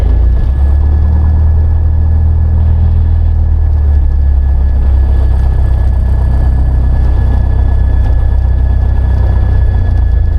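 A Piper Archer's propeller engine runs steadily while the light aircraft taxis, a loud, close, low droning rumble with no break from start to end.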